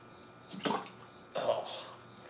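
Gasoline slosh and splash in a container, two short bursts of liquid movement up close, with a moderate level and quiet pauses between them.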